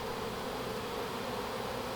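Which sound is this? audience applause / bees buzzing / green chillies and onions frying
bees buzzing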